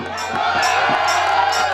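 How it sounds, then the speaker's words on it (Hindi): Applause and cheering from a live audience at a rural Haryanvi ragni stage performance, a steady dense crowd roar of clapping sustained throughout, loud and continuous without a break. "इतनी जोर से ताली रागनी पे नहीं बजाई जितना लैला का नाम लेते ही बजाई"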